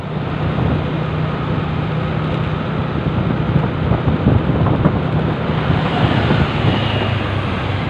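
Steady broadband roar of surf washing onto Padang Beach, continuous and fairly loud, with wind buffeting the microphone throughout.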